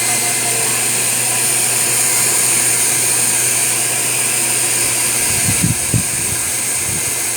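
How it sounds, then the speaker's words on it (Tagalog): A pet blower dryer drones loudly and steadily at close range while drying a dog after its bath, with a few soft bumps near the end. "Kasi yung blower nila, ang hina."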